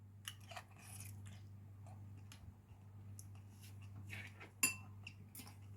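Close, quiet mouth sounds of someone biting and chewing a forkful of beef, potato and onion in sauce, with faint cutlery clicks and a sharp tap near the end over a steady low hum.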